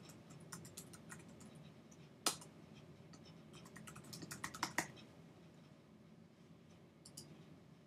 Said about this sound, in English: I will type in the name of the courses that I teach each day.